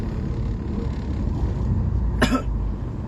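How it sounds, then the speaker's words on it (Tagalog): A single sharp cough from a person with a cold rings out near the end over a constant low engine-like rumble, with no talking. "Pasensya, may ubo tayo ngayon at may kunting sipon."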